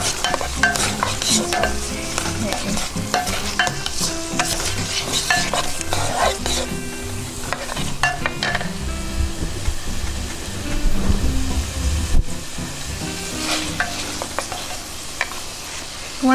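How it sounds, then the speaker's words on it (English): Onions sweating in a pan with a tablespoon of cumin for vegan chili, a loud busy sizzle with constant spatula scraping and clattering stirring close up throughout. "You want to let the onions sweat right now."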